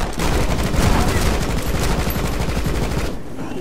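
Rapid bursts of gunfire from a weapon in the side-scrolling game Rocketbirds: Hardboiled Chicken, a loud, dense rattle of shots lasting several seconds before cutting off abruptly near the end.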